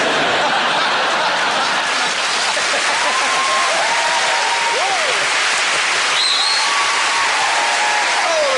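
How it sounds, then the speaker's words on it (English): Steady, loud applause from a television studio audience on a comedy panel quiz show fills the whole stretch, a dense continuous clatter of many hands with faint whoops or laughter rising briefly within it. "Because you've obviously commanded them to applaud in this way"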